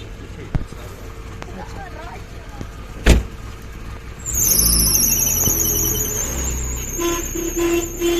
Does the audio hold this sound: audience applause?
no